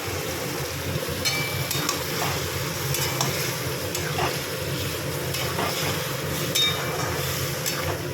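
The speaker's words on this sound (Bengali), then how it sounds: "মশলা একটু ভালো করে তেলের মধ্যে নেড়ে দিয়ে শাকটা দিয়ে দেবো।" Spinach being fried and stirred in hot oil with spices and mustard for a Bengali palong shak dish: a steady, close sizzle runs throughout, broken by repeated scraping strokes of stirring, with no talking.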